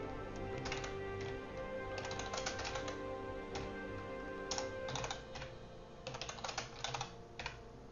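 Computer keyboard being typed on quietly, in irregular bursts of quick, crisp key taps separated by short pauses, with a soft background hum and no talking.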